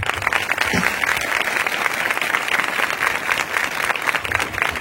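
A church congregation claps together in a dense, continuous burst of applause that runs without a break, loud and close, with a faint voice underneath.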